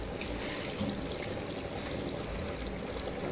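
Strained spice water pours into a pot of curry in a soft, continuous trickle, quiet and steady with no voices.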